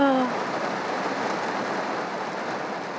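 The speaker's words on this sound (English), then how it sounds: "Wow, it's raining a lot." Heavy rain pouring outside a home-goods store, a dense, steady roar of noise throughout, loud and unbroken, with a brief voice at the very start.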